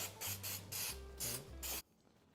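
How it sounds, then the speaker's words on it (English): Four short bursts of aerosol cooking spray hiss in quick succession close up inside a loaf pan, each lasting under half a second, with quiet after. "Grab that spray and spray."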